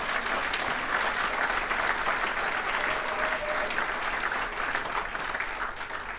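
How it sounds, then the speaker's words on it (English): An audience at a regional civic address with members of Congress claps steadily, a dense, even wash of many hands, loud and sustained throughout without a break. "Give them a big round of applause."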